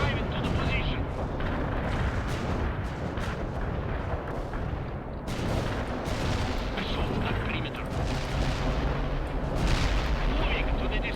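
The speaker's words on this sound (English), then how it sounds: "Nothing feels quite as satisfying as 3 artillery barrages in close proximity." Close, overlapping artillery barrages from World in Conflict: Soviet Assault rumble and crack without pause through the whole stretch, dense and loud, with game voices talking over the bombardment.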